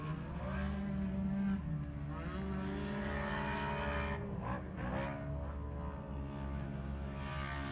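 Off-road race cars in a 40-plus veterans class roar past on a dirt course, engines revving and whining as they come near and then fade, with overlapping passes and a steady loud rumble.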